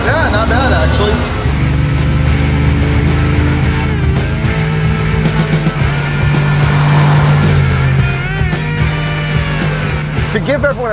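1968 Ford F100 short-bed stepside muscle truck with a 460 big-block engine, loud and close, its engine droning and rising in revs with a hint of tire squeal, while people talk over it.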